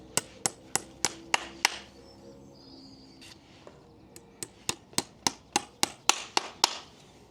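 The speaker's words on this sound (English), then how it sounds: "So we're just going to nail on with 6 regular horseshoe nails." Regular horseshoe nails are hammered into a horseshoe during a farrier's hoof restoration, sharp ringing blows landing in two quick rhythmic runs separated by a brief lull with softer taps.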